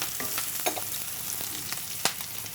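Powdered spices fry and sizzle in a pan with a soft, steady hiss broken by a few light scrapes of stirring, close and quiet with no talking.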